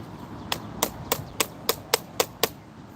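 Eight sharp hammer blows land in a steady rhythm, close and ringing, with brief pauses between strikes and no talking.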